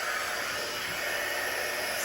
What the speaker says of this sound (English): All right, heat tool.